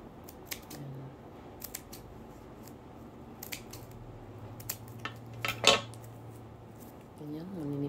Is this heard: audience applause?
no